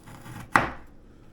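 A kitchen knife comes down once through strawberry banana waffles, giving a single sharp, close chop against the board, with quiet room tone before and after and no talk.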